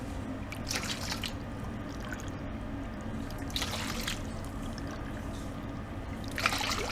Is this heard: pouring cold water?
yes